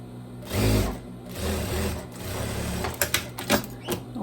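Sewing machine stitching a kimono sleeve, with a close, steady motor whir that surges and eases as it runs, then a few quick clicks and taps near the end.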